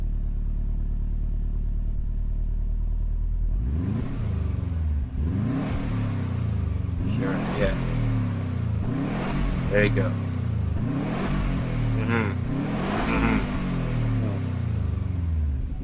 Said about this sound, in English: That's the last time we're gonna hear that engine